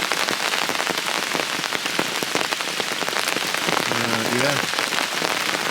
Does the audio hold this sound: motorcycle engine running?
no